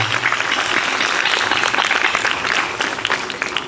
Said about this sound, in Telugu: గట్టి చప్పట్లు కొట్టండి.